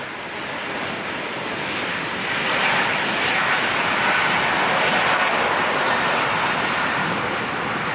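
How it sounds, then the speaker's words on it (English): Jet airliner with GE90 engines passing near the runway at LAX by the ocean, a loud broad roar that swells and holds steady for the full eight seconds. "Look at those G90 engines."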